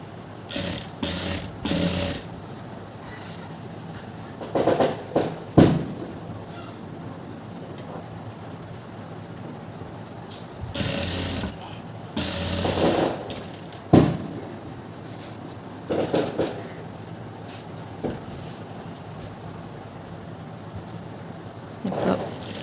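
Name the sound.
sewing machine stitching elastic on pants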